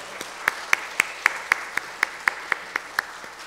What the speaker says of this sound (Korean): 우리 다시 한번 박수로 축복하겠습니다.